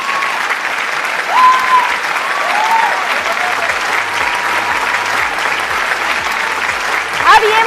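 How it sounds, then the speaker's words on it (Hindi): An audience at a stage event applauds loudly and steadily as a husband is called up, with a few whistles and cheers in the dense clapping. "लेकिन मैं तालियां बजवाना चाहूंगी अपने हस्बैंड के लिए।"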